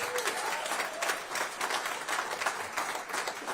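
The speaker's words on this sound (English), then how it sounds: "Give them a big round of applause." Steady applause from a crowd, continuous clapping with some scattered cheers rising and falling throughout.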